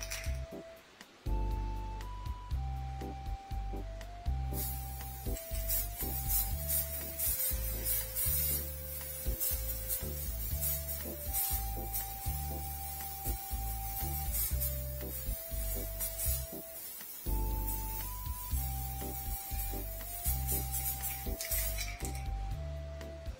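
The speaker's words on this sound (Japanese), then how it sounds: "色のついた塗料で、天板をスプレーしていきたいと思います。" An aerosol can sprays coloured paint onto the top panel of a 12AU7 single-ended DC amplifier case. The steady, hissing spray runs for long stretches at a moderate level beneath background music and a faint electrical hum.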